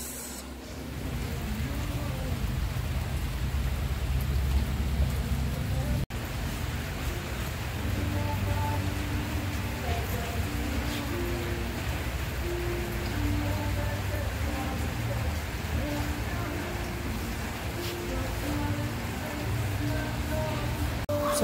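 Steady rain falls on a surface nearby during a wet day in Candelaria, Quezon, a constant dense hiss under a faint low hum, with a brief muffled voice near the start.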